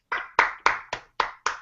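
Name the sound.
round of applause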